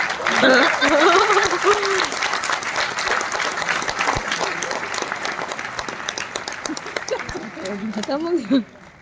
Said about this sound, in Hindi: एक बार तालियां बजाते